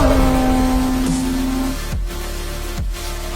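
A Ferrari and a Porsche in a half-mile drag race, engines roaring loud and close with a high sustained whine, then dropping through gear shifts as the pitch steps down.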